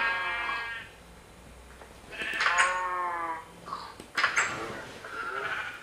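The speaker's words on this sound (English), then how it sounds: "Here are the sheep." Several sheep bleat in turn at close range, wavering calls overlapping with a quiet outdoor background between them.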